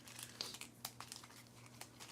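Marvel United game cards being shuffled by hand, a quiet close-up series of crisp riffling and crinkling snaps with soft gaps between them.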